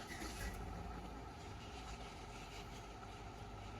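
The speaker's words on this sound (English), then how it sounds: "So let's start the engine and see how it goes." A car engine idling after its pulse solenoid has been replaced, a low steady rumble heard faintly and continuously with no distinct start, even and unchanging throughout.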